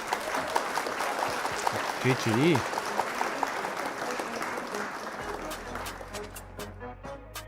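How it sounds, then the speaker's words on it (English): Applause marks the end of a card game on a live stream, a steady crackle of clapping under the host's talking, with a short tonal warble midway and sharper scattered claps toward the end. "Round of applause for Tezor."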